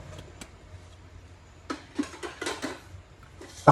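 A metal lid set onto a cooking pot of coconut and corn makes a few close clinks and clatters, starting faint and growing louder near the end, with no talking.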